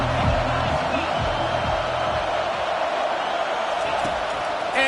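Football stadium crowd on a third down, a broad, sustained roar of cheering fans filling the background beneath a broadcast commentator's voice.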